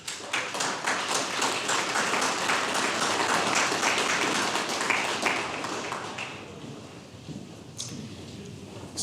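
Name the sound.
audience applause for the SAR Color Guard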